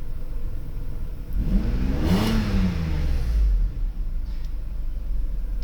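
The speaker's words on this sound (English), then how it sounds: "that's just like tapping on the gas pedal, and you can see that the RPMs raise up pretty well" A Mercedes V12 engine revs once as the gas pedal is tapped, rising from a low idle rumble to a swelling whir and settling back down, heard close and loud with no talking.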